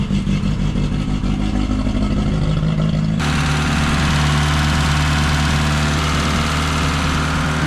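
Peugeot 205 off-road car engine idling close up with a rough, loud, throbbing burble resembling a V8 or rotary, shifting abruptly to a deeper, steadier drone partway through.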